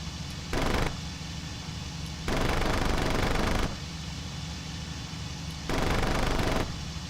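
Aircraft machine guns firing in the IL-2 Cliffs of Dover flight combat game, three loud sustained bursts over steady engine drone.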